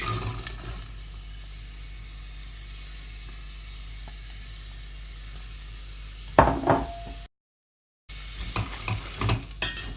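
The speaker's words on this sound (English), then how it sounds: "in goes our veg" Chopped vegetables, tipped into a pot as the base for vegan French lentil soup, cook with a quiet, steady sizzle and faint hiss, then a short burst of stirring clatter before the frying noise resumes.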